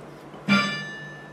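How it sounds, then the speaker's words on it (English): A church bell in the bell tower of St. Thomas' Church, Whitemarsh, struck once by a clapper set too close to the lip, giving a sharp metallic clank like a hammer on metal with a ringing overtone that decays over about a second. "Kind of like a hammer against a piece of metal."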